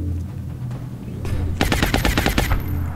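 Rapid automatic gunfire from suppressing fire in the XCOM: War Within video game opens up after a quieter lead-in, firing as a dense run of sharp, evenly spaced shots that stay loud and close until near the end.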